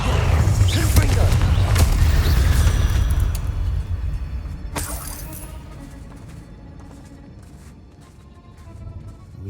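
Confringo blasting spell in Hogwarts Legacy, a loud rumbling explosion with crackling debris for the first few seconds, a sharp crash near the five-second mark, then a fading low roar.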